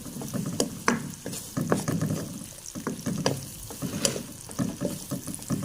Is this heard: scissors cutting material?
no